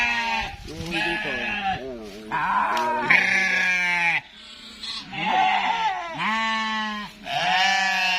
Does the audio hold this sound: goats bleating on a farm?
yes